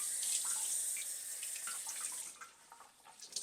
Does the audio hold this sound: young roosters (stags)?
no